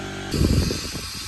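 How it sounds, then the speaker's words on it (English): A short burst of soapy water sprayed onto a boat pontoon to find a leak hisses close by, starting abruptly and tapering off after about a second. "we can spray soapy water over the pontoon as well."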